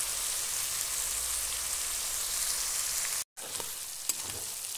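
Duck meat fries in oil with a dense, continuous sizzle like light rain, a brief cut of silence partway through, then the spattering hiss resumes with a few sharper crackles.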